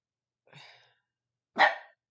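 A dog gives two short barks about a second apart, fairly close and moderately loud, against an otherwise quiet room.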